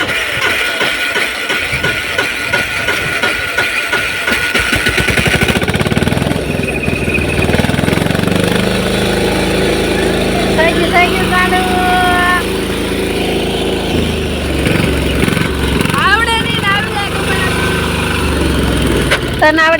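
A diesel tractor engine chugs steadily and loudly nearby while pulling a groundnut digger through a field, with a rough rhythmic drone, shifting tones and some rattling.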